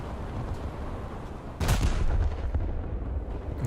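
Naval guns firing in a warship battle game: one heavy booming shot rolls out over a constant low rumble, with a lingering roar afterward.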